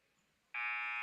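A halftime buzzer at a varsity girls' basketball game sounds abruptly after quiet: a loud, steady electronic tone that holds to the end.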